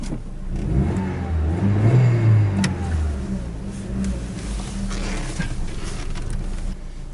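A car engine idles nearby, rising into a brief rev early on before settling back to a steady running hum.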